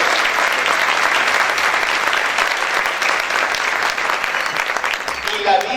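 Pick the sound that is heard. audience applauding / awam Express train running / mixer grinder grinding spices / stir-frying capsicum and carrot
audience applauding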